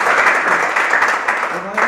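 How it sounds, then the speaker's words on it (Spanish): People at a malambo dance school applaud steadily and fairly close for two seconds, with voices talking over the clapping. "vale el aplauso"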